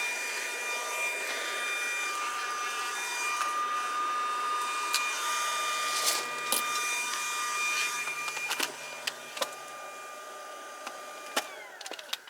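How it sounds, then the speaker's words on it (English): An electric fan runs steadily to cool a motor while working on a Ford Explorer 4.0 V6 SOHC, a constant whirring hum with faint tonal whine, joined near the end by a few sharp clicks and knocks. "Just leave the fan running for a little bit, let the motor cool down a bit."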